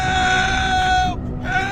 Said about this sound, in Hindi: तभी उस हॉस्पिटल के अंदर से चीखने चिल्लाने की आवाज आने लगती है